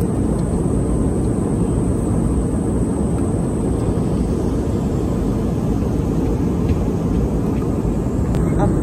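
Steady loud airplane cabin roar during turbulence, a constant broadband engine and air rush filling the whole stretch with no break.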